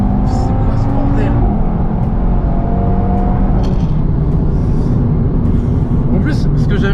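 A gray Nardo Audi TT RS with a Stage 1+ tune roars loudly up close as its engine accelerates, a dense continuous rumble that stays heavy throughout.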